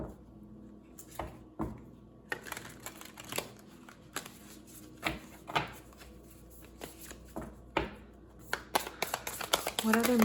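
A Moonology oracle card deck is shuffled by hand. Soft, irregular riffling and card slaps run throughout under a person talking.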